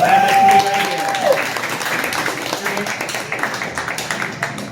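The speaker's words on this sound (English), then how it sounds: "Give them a round of applause." Audience applause at a live comedy-magic show, a dense round of clapping that starts loud under a voice and gradually thins out over several seconds.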